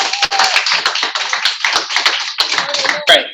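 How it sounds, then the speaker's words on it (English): A small audience at a real estate talk gives a short, sparse round of applause, individual claps loud and close, lasting about three seconds with faint voices mixed in. "let's give Mr. Scruggs a big round of applause"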